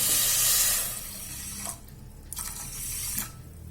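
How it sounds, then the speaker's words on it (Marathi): A bowl of water pours steadily into a pan of sugar for over a second, then trickles and splashes in short bursts before tapering off. "त्यामध्ये मी एक वाटी पाणी टाकत आहे"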